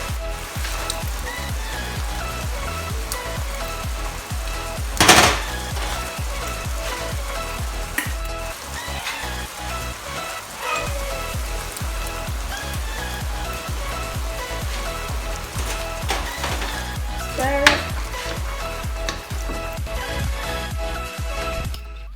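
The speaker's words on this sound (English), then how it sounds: "Now into our saucepan, we're going to be putting in our pulpa, the tomato pulp." Tomato pulp hitting a hot saucepan of cooked minced meat for Italian lasagna, giving a steady loud sizzle and crackle throughout, with a couple of brief louder bursts of spitting as it is stirred in.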